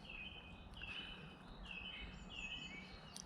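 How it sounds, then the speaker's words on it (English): Birds chirping beside the Leeds Liverpool Canal, a few faint repeated high whistling calls over quiet outdoor background noise, with no talking. "Can hear all the bird song and so on, and all the bird chatter."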